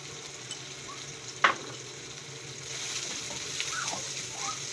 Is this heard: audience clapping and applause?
no